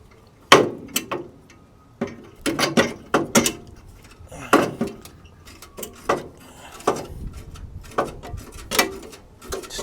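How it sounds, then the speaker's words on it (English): Welds being broken off a VW Bus body panel: sharp metallic bangs and knocks in an irregular series, some in quick pairs, with quiet gaps between, close and clear with no talking. "Just trying to break those welds off."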